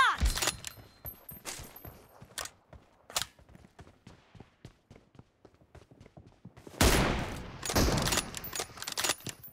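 Sniper rifle shots in a video game crack out as a string of sharp, separate reports, ending in a louder, denser burst of gunfire.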